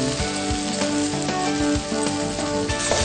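Tomato pieces frying in a pan for curry, a steady sizzle running through the whole stretch, with faint clinks and stirring knocks on top and a continuous tonal music-like bed underneath.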